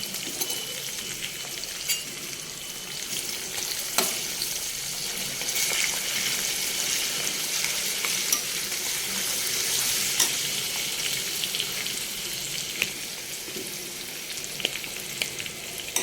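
Tamarind paste frying and being stirred in a pan for tamarind rice, a steady close sizzle with scattered scraping ticks from the spoon and no voices.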